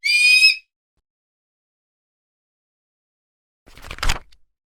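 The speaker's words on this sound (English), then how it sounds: "A hawk sat on top of a tall mall." A hawk gives a sharp, high screech at the start, then silence follows, and a brief rough burst of noise comes near the end.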